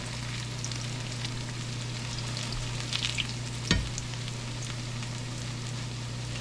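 Onion fritters frying in grease turned down to medium-low, giving a steady close sizzle with a spluttering crackle and one brief louder pop.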